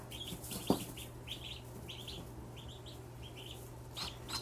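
Tiny newly hatched ducklings in a brooder give soft, rapid high peeps in short bursts throughout, close by over a steady low background hum, with one brief thump near the start.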